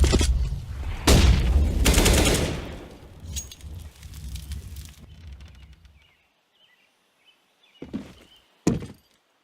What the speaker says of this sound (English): I am throwing a grenade. Flashbang.